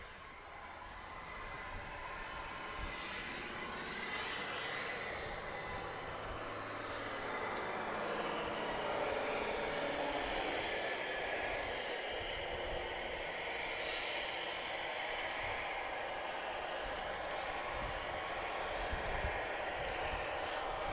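A Condor airliner taxis at Madeira Airport, a distant steady jet engine rumble and hiss that swells slightly and holds on, with no talking.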